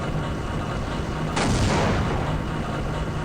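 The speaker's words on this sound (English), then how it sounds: "And I hear a helicopter and explosions." In the video game Half-Life, a sudden loud explosive blast bursts out partway through, over a steady rumbling noise from a helicopter.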